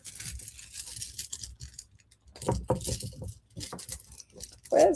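Loose pearls are shuffled about on a surface with light clicking, rattling patter that rises in a couple of bursts and then fades.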